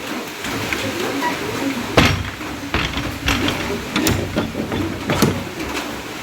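A door is shut indoors, giving several scattered knocks and clunks over a few seconds against a constant background hiss of heavy rain outside.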